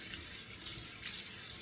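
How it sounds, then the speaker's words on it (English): Cold water running from a sink tap and splashed onto the face and cheeks, a close gushing and splattering flow with small surges, no voices. "Let me just do that real quickly here. Real quickly, we'll just splash some on the cheeks a little bit."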